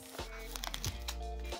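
Paper box and semi-transparent plastic wrap of a PC and TPU MagSafe clear case for an iPhone 15 Pro being opened up close, with a few crinkles and rustles over a steady low hum.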